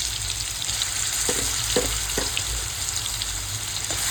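Homemade masala fries in a pan over cumin and asafoetida, giving a close, continuous sizzle with a low rumble beneath and several soft scraping stirs, and no one speaking.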